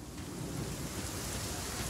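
Thunderstorm and rain in Just Cause 4: a continuous hiss of heavy rain over a low rumbling thunder bed, steady and enveloping with no distinct individual strikes, alone without voices.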